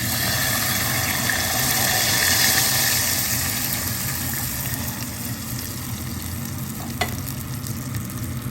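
Water hits a hot pan of chilies for chickpea flour khaman batter, a loud continuous spluttering sizzle that slowly settles, with a brief clink near the end and no voices.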